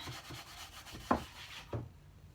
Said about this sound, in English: So all you have to do is just rub it a little bit, and it will just bring a nice sheen.